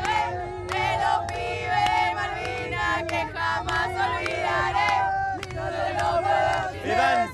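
Argentine football fans cheering and chanting in a dense crowd after their team reached the World Cup final, loud continuous roar with rhythmic sung chants and sharp claps, some shouting nearby.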